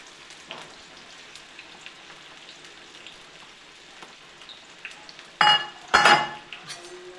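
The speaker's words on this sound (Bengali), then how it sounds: "সেই পেঁয়াজগুলো আমি কিন্তু বেরেস্তা করে নেব।" Sliced onions deep-fry in white oil for birista with a steady rain-like crackle and hiss, close and even, until two sharp metallic clanks of a utensil near the end. No one speaks.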